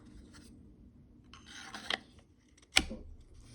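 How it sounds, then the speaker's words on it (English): A Band-Aid rubs against the grips of a fixed-blade knife, producing a few short, quiet scratchy rubs, with a sharper scrape near the end and stillness in between. "All you're hearing is my Band-Aid on the grips."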